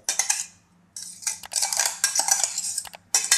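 Roasted brinjal for bharit being mixed in a bowl, bursts of metallic scraping and clinking of a spoon against the dish, close and busy with a brief pause near the start, no voices.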